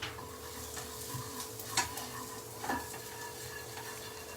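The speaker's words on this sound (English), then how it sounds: "We put our garlic, chopped garlic in here." Chopped garlic sizzles in hot oil in a pan with a steady, moderate frying crackle, broken by a couple of sharp utensil clicks against the pan.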